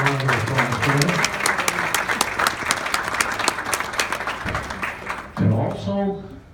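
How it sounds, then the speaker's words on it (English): Applause breaks out among mourners at a family memorial service for a mother, a full, sustained wave of clapping that tapers off near the end as a voice briefly returns. "Can we give a round of applause for them?"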